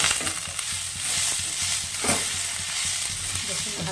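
New potatoes and flat beans fry in a pan, a loud continuous sizzle with scraping and stirring strokes from a utensil throughout, no speech.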